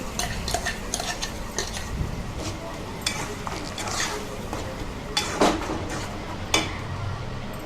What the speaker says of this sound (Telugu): ఆ పచ్చడి అనేది ఈ ఆయిల్లో వేసేసి మిక్సీ చేసుకుంటే సరిపోతుంది